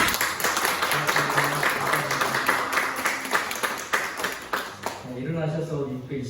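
A church congregation at a Sunday service claps together, dense rhythmic applause under steady talk, fading toward the end as a voice continues alone.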